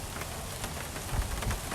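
Steady rain falls on a morning drive around a big cat rescue in cool, wet weather, a dense continuous patter with a few louder low thumps near the end and no voices.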